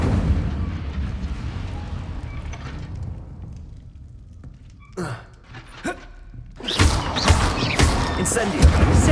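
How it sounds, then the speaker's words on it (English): An Incendio fire spell cast in the Hogwarts Legacy video game, heard as a roaring burst followed by sharp crackling flare-ups and a louder blazing rush near the end, with rumbling game effects throughout. "Incendio! Setting things ablaze is certainly cathartic, isn't it?"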